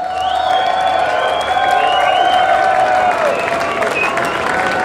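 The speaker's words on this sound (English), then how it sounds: "Let's give them the best and the loudest and the most cheers and applause for all they do for us every day." Loud crowd cheering and applause fill the air at an outdoor LGBT Days bed race in Cathedral City, steady and dense throughout with whoops over the clapping.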